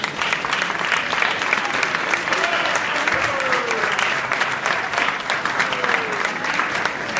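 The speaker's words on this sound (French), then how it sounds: "on peut les applaudir." A live audience gives loud, sustained applause that fills the whole seven seconds, dense and even, with a few faint sounds mixed in under the clapping.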